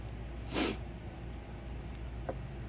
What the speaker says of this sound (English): Pardon the sniffling.